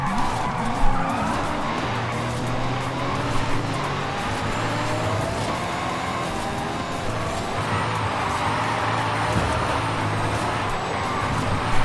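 A car in Forza Horizon 5 drifts sideways with a sustained, loud tire squeal and skid over a steady engine roar throughout.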